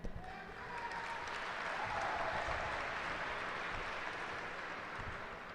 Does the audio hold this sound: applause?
yes